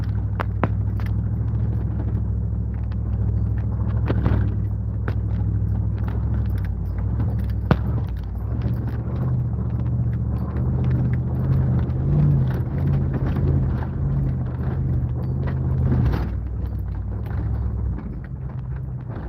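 Truck engine driving off-road up a hill, a continuous loud low rumble and drone with rattles and bumps throughout, steady and close.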